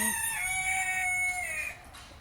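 A rooster crows loudly and close, one long drawn-out call with a brief cluck at the start, among chickens at a Thai temple in Belgium.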